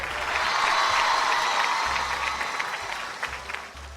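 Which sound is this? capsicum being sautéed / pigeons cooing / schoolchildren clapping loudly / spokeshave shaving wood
schoolchildren clapping loudly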